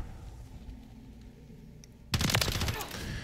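Rapid automatic fire from an HRM-9 in a video game cuts in abruptly after a quiet stretch and rattles on loudly, with continuous close-range shots until the end.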